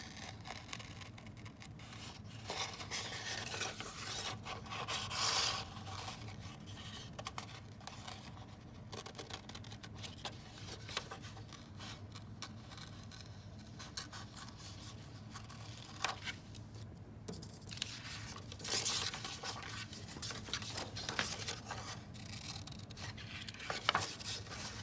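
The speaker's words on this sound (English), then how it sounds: "if you just use a little bit of your scissors and you just cut a little bit at a time" Scissors snip paper for a nativity silhouette in quiet, faint bursts of rustling and rasping cuts, with short pauses while the paper is turned.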